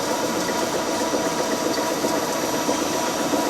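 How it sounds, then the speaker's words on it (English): A metal lathe turns steel gear blanks at slowed RPM, giving a steady, loud broadband machining drone that holds evenly throughout with no talking. "I think it's going to overload the lathe doing that"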